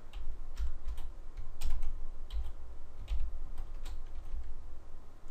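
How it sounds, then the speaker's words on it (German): Irregular tapping and clacking on an English-layout computer keyboard, close and clear, with scattered single keystrokes and short bursts and no talking. "wie mache ich einen traurigen Smiley mit der englischen Tastatur?"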